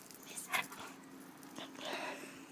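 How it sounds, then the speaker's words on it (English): A dog gives a couple of faint, short barks and yips in a quiet room, with soft background noise in between. "Stop barking."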